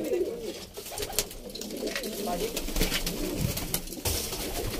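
Pigeons, including young birds, coo softly in a loft amid a noisy background, their low calls partly masked by clatter and faint human voices.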